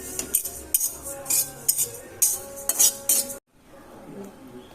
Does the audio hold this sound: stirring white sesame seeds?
yes